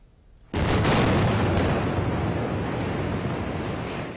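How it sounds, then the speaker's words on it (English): A sudden loud demolition blast in New Orleans, set off to topple two cranes over the ruins of the partially collapsed Hard Rock Hotel, erupts after a quiet moment and rolls on as a sustained roaring rumble. "Officials in New Orleans have set off a series of explosions to topple two cranes"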